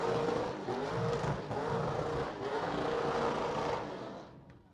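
A burnout competition car at Street Machine Summernats 35 revs hard and holds a loud, sustained engine roar trying to blow its rear tyres, close and continuous before easing off at the end.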